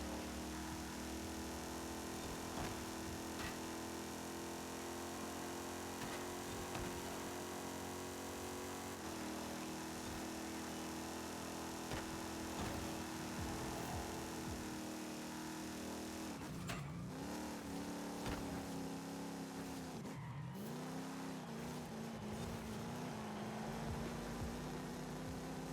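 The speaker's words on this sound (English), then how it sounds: "I can rev it out a bit, so I will try doing that for the next laps." A car engine in Forza Horizon 5, a 450hp spec-series Challenger, drones steadily at high revs under continuous road noise, dipping briefly in pitch twice as gears shift before climbing again.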